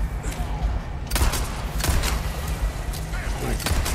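Gunfire rattles in the video game Resident Evil 4 Remake, several sharp bursts of shots over a constant loud game soundscape.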